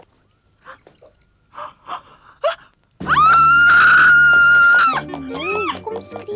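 A child, the young girl Adelheid in an Afrikaans Heidi cartoon, lets out a loud, sustained scream of about two seconds. Talk comes before it and a wavering cry follows it.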